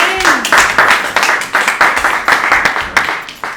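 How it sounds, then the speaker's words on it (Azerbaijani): Audience applause at an opening ceremony: dense, steady clapping from a crowd, loud and close, running throughout without a break. "Alqışlarınız gəlsin."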